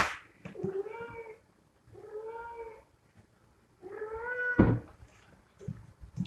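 A garden cat meows three drawn-out times in a row, fairly close and clear, with short gaps between calls and a brief knock or bump near the end.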